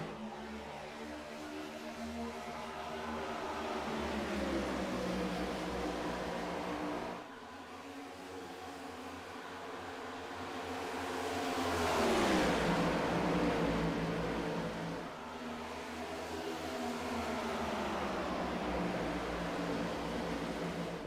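Stock cars race at Echo Park Speedway in the iRacing game. They are heard as a continuous engine roar whose pitch sweeps down, then builds to a loud pass near the middle and sweeps again, with no talk.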